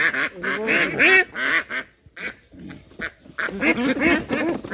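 A group of ducks kept at a home, almost like a small farm, quacks loudly and close by in several clustered bursts, with a short lull in the middle before the honking calls pick up again.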